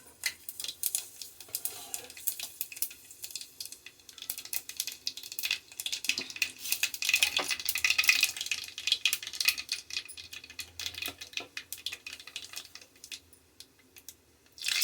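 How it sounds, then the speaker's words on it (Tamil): Mustard seeds splutter in hot oil for a Mangalore-style fish curry, a steady, dense crackle of sharp pops and fizzing spits heard up close. It keeps going without letup and without talking. "நம்ம கடுகு போடலாம். கொஞ்சம் கேர்ஃபுல்லாக இருக்கணும். ஓகே, கடுகு பொரிஞ்சிடும்."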